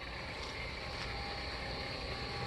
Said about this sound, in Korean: 서서히 감기면서 한쪽은 또 풀리면서 모터가 작동하고요